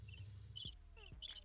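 Crickets chirp faintly in short high trills against a low background hum, with a couple of brief tonal blips between them.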